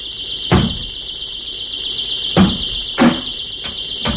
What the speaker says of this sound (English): Sounds like somebody's breaking down your door.